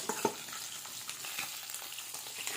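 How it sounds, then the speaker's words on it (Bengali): Tilapia fish frying in oil over a wood-fired stove, a faint, steady sizzle with a sharp pop near the start and light crackles. "তেলাপিয়া মাছটা ভাজা হয়ে গেছে"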